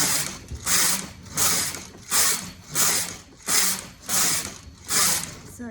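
A Brother KH836 knitting machine doing plain knitting: the carriage is swept back and forth in seven steady, evenly spaced passes, each a bright rattling whoosh with a mechanical clatter, close and alone.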